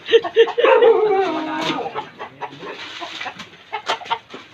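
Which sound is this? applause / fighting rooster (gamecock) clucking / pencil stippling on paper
fighting rooster (gamecock) clucking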